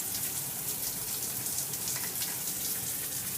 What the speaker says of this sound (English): Water's flowing out of the faucet head there, or shower head, and no leaks